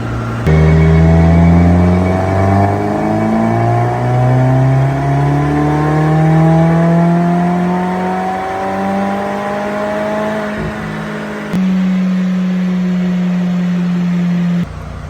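A Subaru WRX engine on an all-wheel-drive dyno, running with no boost: one long steady pull, its loud droning note climbing smoothly in pitch for about ten seconds, then dropping back to a lower steady hum near the end.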